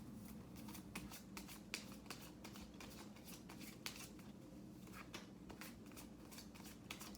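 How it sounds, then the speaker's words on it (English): Close, crisp riffling of tarot cards being shuffled repeatedly, quick papery bursts in an uneven rhythm, quiet and without talking. "let me go ahead and shuffle for you"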